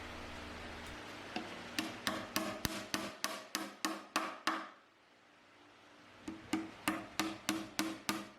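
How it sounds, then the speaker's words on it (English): Repeated hammer blows drive wooden dominoes into a built-in TV wall unit, a steady run of sharp knocks, a short pause, then another run of strikes, close and clear. "hammer some dominoes in"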